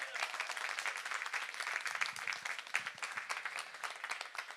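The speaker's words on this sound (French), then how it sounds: "On peut les applaudir." An audience applauds a team of hospital workers at the Relais pour la Vie opening ceremony in Rixensart, a dense, steady burst of clapping from many hands that holds evenly for several seconds.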